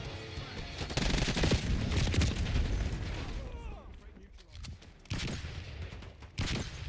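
Rapid gunfire bursts from a Black Ops 6 match on the Nuketown map, loud and dense for the first few seconds, then thinning into scattered shots with sharper bursts near the end, mixed with game noise.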